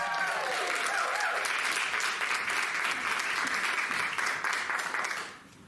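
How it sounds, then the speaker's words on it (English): A theater audience at a live adventure-serial show applauds for a performer named Aubrey, sustained dense clapping at a steady level for about five seconds before quickly fading out. "Let's hear a big round of applause for Aubrey."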